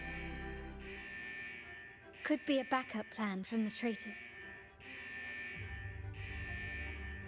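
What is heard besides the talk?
vault central alarm sounding in a video game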